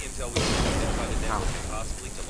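A sudden booming blast from a video game bursts out, followed by a crackling, rumbling wash that lingers for a couple of seconds.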